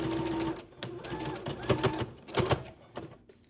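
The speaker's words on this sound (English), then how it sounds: "we're going to stitch straight across again" A sewing machine stitches across a handmade fabric face mask in quick mechanical clatters with short pauses, fairly close and quiet, with a voice speaking over it.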